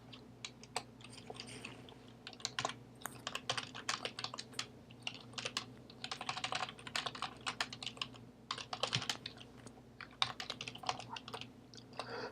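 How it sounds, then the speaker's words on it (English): Rapid keystrokes clatter on a computer keyboard in uneven bursts with brief pauses, close and fairly quiet over a low hum. "if I start typing"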